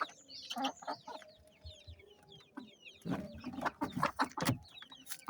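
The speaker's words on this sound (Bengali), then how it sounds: "দেখেন মাশাআল্লাহ আমাদের 5টা বড় মুরগি আছে" Desi hens and roosters in the lower floor of a backyard coop cluck and chatter in quiet, irregular bursts, several birds overlapping at a moderate distance with no talking.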